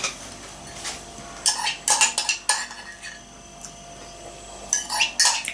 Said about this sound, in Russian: О, ложка.